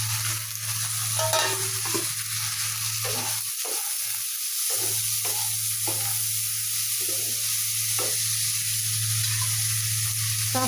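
Dal tipped into fried onion and garlic in a hot pan sizzles steadily and closely for the whole stretch, with stirring scrapes breaking through now and then.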